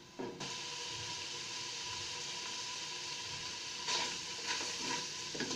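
Chicken pieces frying in a pan for olluco con pollo, a soft steady sizzle with occasional stirring scrapes, quiet and close.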